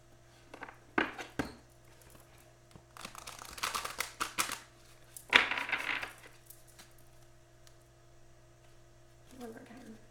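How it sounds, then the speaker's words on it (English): Tarot cards are shuffled by hand in several short bursts of riffling and shuffling with pauses between them, fairly close and moderately quiet over a faint steady hum, without speech. "I'm just going to shuffle this once."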